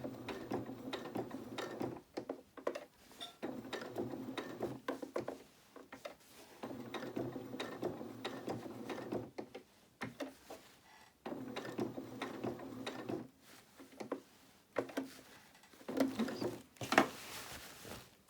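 A sewing machine top stitches a doll's dress, giving a quiet, rapid mechanical patter in bursts separated by short stops, close by and alone without speech.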